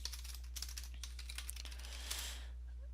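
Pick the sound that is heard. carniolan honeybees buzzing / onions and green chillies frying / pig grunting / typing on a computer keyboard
typing on a computer keyboard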